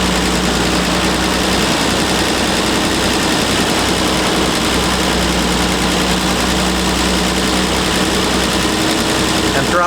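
Triumph GT6 engine with Zenith-Stromberg carburettors idling close by, a steady, even running hum throughout, with someone talking over it.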